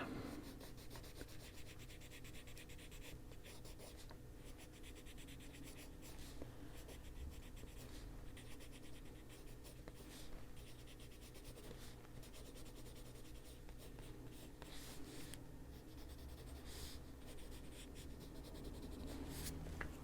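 A colored pencil scrapes steadily across paper in close, continuous strokes, soft and faint, with no voices.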